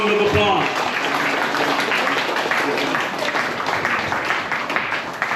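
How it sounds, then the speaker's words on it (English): A crowd at a senior citizens party gives a big round of applause, steady dense clapping throughout at moderate loudness, with a voice audible briefly at the start. "big round of applause."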